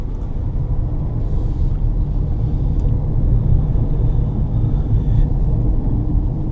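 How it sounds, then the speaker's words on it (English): A 2015 Honda Pilot EX-L rolls over a rough, bumpy road, heard from inside the cabin as a steady, loud low rumble of tires and suspension with faint knocks from the bumps. "I'm going to go down and hit a couple bumps on this other road."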